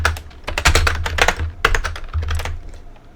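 Quick bursts of keystrokes on a computer keyboard, close and clear, clattering in an uneven rhythm with short pauses between words.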